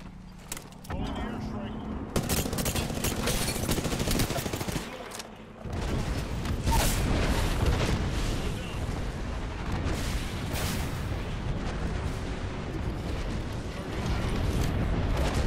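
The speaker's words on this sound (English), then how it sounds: "I am taking fire, friends. Hey, I'm getting shot." Rapid bursts of gunfire in the video game Apex Legends, dense crackling shots and volleys continuing almost nonstop, mixed with game voice callouts.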